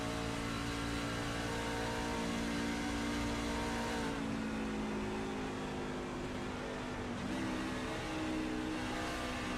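A race car roars continuously around Charlotte Motor Speedway during an oval series race, its engine note dropping through a downshift midway and then climbing again, heard from onboard at steady high volume.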